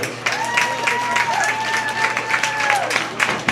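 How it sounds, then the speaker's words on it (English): Crowd applause ringing out at a county fair market goat show, a sustained round of clapping and cheering in a livestock arena, with an announcer's voice and a high tonal whistle-like sound running over it. "these are a nice round of applause"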